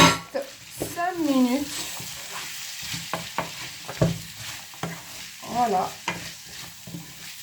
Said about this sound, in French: je vais rajouter le reste, donc les poivrons avec les olives. Et pareil, je ne vais pas laisser beaucoup cuire